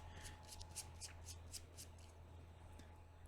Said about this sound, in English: I'll shuffle these.